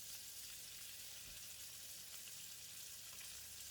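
Prawns fry in oil in a pan for fried kuey teow, a quiet, even sizzle with soft crackles and one small knock partway through. No one speaks.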